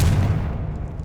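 Confringo spell blast in the video game Hogwarts Legacy, a single booming burst at the start that rumbles low and fades over about a second.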